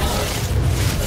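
A Confringo blasting spell explodes in the video game Hogwarts Legacy as one short, loud, deep boom with a rumbling low end.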